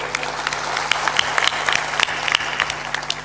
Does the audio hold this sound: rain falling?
no